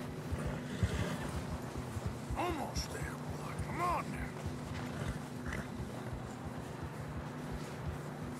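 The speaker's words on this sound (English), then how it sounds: "Horses are struggling." Muffled hoofbeats and snorting horses in Red Dead Redemption 2 plod steadily through snow beneath low rumbling background noise, with occasional whinnies.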